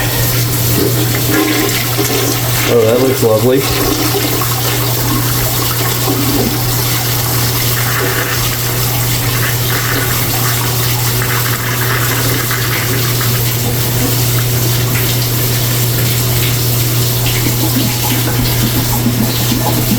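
Toilet with disconnected plumbing, its tank filled by bucket, flushed during a sewer blockage: a steady, loud rush of water running throughout, with a brief spoken remark early on.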